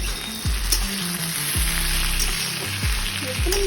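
Ivy gourd and potato fry in a pan over a low flame with a steady close sizzle, broken by a few scraping stirs, and no talking.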